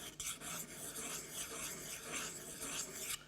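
A Stanley plane cutting iron bevel is rubbed back and forth on a sharpening stone, removing coarse grinding marks toward the edge, giving repeated quiet rasping strokes close up with no speech.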